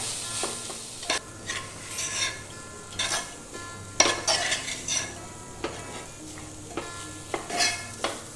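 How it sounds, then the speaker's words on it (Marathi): Finely chopped broccoli with softened onion sautés in a pan: a soft sizzle under irregular stirring scrapes and occasional sharp clinks of a spoon against the pan, close by with no voices. "आता त्यात ही बारीक चिरलेली जी ब्रोकली आहे ती मी घालणार आहे. आणि ही एक 5 मिनिटं परतून घ्यायची."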